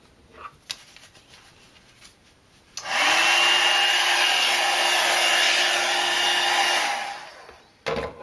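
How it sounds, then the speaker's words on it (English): A heat gun embosses paper, switching on with a loud, steady blowing roar and a constant hum that runs for about four seconds before cutting off, with faint handling clicks around it. "I'm going to emboss this with my heat gun"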